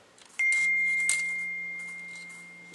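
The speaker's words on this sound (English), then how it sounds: "sorry for that ringing noise. I got a text message." A phone's text message notification tone rings out as one sustained electronic beep, clear and close, slowly fading over a couple of seconds in a quiet room.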